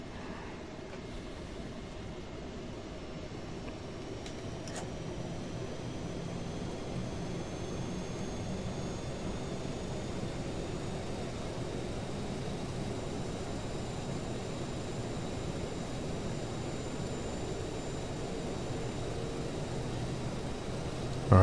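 The Aerosoft CRJ's jet engines run in Microsoft Flight Simulator, a steady, unbroken broadband roar with faint high whines, holding even for the full stretch.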